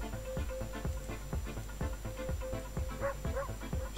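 A cartoonish dog barks in the Super Dogo video game, a rapid run of short yips repeating steadily over a constant game music bed, with a couple of whimper-like notes near the end.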